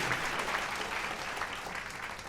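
Audience applause for a female contestant at the first live show of a fashion design competition, a dense, steady wash of clapping from a sizeable crowd that stays even and sustained throughout.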